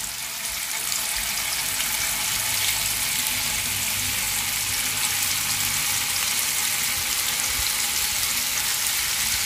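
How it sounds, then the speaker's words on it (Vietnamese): Tofu frying in hot oil sizzles steadily and close up, a dense hiss that runs unbroken the whole time with no talk over it. "Dầu nóng rồi thì chúng ta sẽ cho đậu hũ lên chúng ta chiên nha."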